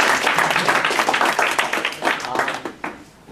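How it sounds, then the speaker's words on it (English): A room of students claps in a loud, dense round of applause at a student election event, swelling briefly and then tapering off toward the end. "So I just wanted you to get your proper round of applause."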